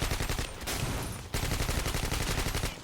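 Rapid bursts of automatic gunfire crackle from the shooter game BlackFire, loud and dense, with a brief gap midway before the shots resume in a steady rattling stream.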